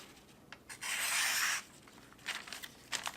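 A Kershaw pocket knife with its factory edge slices through paper, giving one sustained scraping rasp of about a second, then fainter short scratchy strokes, close and quiet with no voices.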